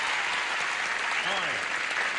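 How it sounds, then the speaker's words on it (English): Studio audience on a 1970s TV game show gives brisk, dense applause throughout, with a voice briefly audible beneath the clapping. "Would you all give a good, brisk round of applause to Carol Bittick?"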